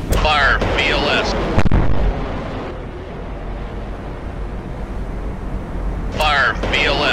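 Tomahawk missiles fired from the vertical launch system of destroyer DDG-78 in the submarine game Cold Waters: a loud, sustained rushing roar lasting several seconds, with brief radio-style voice chatter at the start and end.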